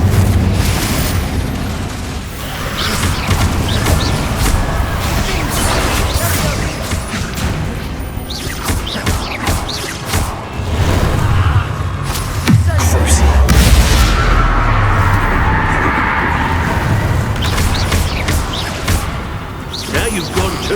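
Repeated booming explosions from the Confringo fire spell in Hogwarts Legacy, heavy low thuds and crashes recurring irregularly over about twenty seconds amid busy combat noise, loud and close.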